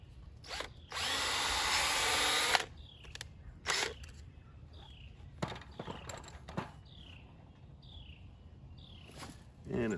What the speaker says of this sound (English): Drill a pilot hole for our stainless steel screw.